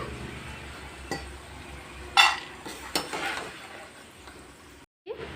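Crispy fried potato pieces for aloo pickle clatter against a metal pan as they are moved, a few sharp clinks and scrapes over a faint sizzle, close by with no talking.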